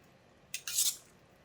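A spoon stirs fish ball spinach soup in a pot, giving one brief metallic scrape and clink against the pot amid otherwise quiet stillness.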